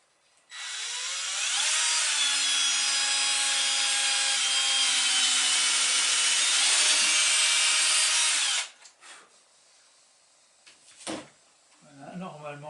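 A power drill with a 2.5 mm bit bores into bamboo for kitchen tongs, a loud close high whine held steadily for about eight seconds, then stops, followed by a few knocks and brief talk.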